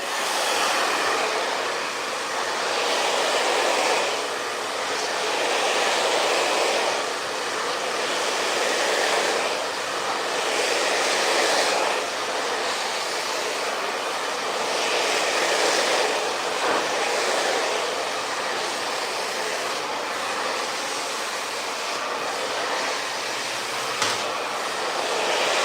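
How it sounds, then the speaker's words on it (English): A hair dryer blows steadily on hair, a continuous close roaring whoosh with gentle swells as it moves, with no talking. "Your hair type does not matter with this blow dry technique."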